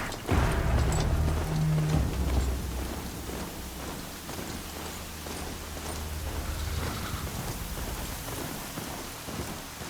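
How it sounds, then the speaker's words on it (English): Heavy, steady video game rain in Horizon Zero Dawn Remastered pours down with a continuous hiss, and deep rumbles of thunder roll underneath. "Raining like it's trying to wash everything away."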